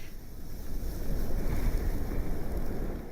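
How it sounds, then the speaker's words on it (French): Strong storm winds gusting over 160 km/h in Scotland roar as a dense, buffeting rumble that rises and falls over a few seconds, loud and close with heavy wind noise on the microphone and no voices. "Des rafales de vent de plus de 160 km/h ont également soufflé sur l'Écosse"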